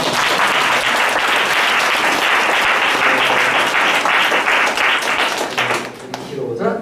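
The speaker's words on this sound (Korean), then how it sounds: "박수 한번 해주시죠." Church congregation applauding during a Sunday worship service as a new children's ministry evangelist is introduced, steady dense clapping filling the room before tapering off near the end.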